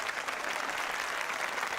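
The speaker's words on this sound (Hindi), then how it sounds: "क्या तालियां पे तालियां बजाए जा रहे हैं?" Dense, steady applause from a crowd fills the short span, loud and continuous with no pause, at a staged public event.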